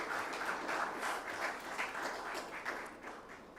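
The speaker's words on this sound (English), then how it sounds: "A big round of applause for Ministry of Defense and Defense Minister." Audience applause at a defence summit for the Ministry of Defence and the Defence Minister, a faint, distant wash of many hands clapping, steady for a few seconds and slowly easing off, with no voices over it.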